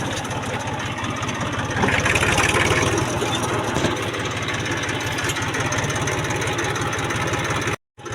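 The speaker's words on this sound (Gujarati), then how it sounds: "ખેતરમાં પછી આવ્યા ટ્રેક્ટર હાંક્યા ખેતરમાં।" A tractor engine runs in a farm field with a steady, loud, low chugging rumble that swells briefly partway through and cuts out abruptly near the end.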